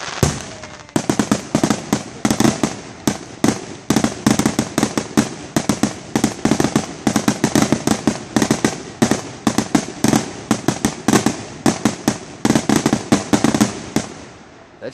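A fireworks display pops and bangs in rapid, loud bursts of crackling explosions, nearly continuous for the whole stretch, with faint voices barely present.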